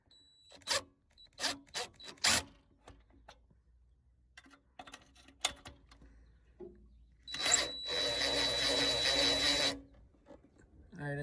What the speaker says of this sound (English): I'm using a power tool, because I can press and then the torque of the power tool will turn it out